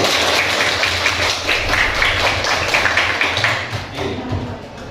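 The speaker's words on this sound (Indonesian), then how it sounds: "Tepuk tangan buat kalian." Schoolclass of students clapping for their group work during a lesson, a loud, busy patter of hands close by that tapers off near the end, with low background rumble underneath.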